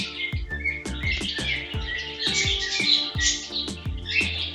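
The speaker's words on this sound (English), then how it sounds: "Baby bird always make a cute sound during feeding." Rapid, repeated high chirps from a baby cockatiel during hand feeding, close and steady, with soft thumping underneath throughout.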